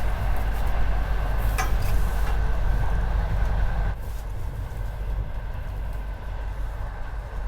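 Steady rumble and rattle inside a moving train carriage, a continuous loud low-frequency roar with a brief squeal near the start and a slight drop in level halfway through, no voices.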